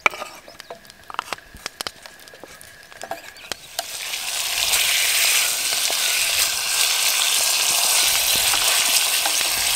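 Bacon dropped into hot oil in a pan for a Viking stew, a few faint clicks and taps giving way to a loud, steady sizzle that continues to the end.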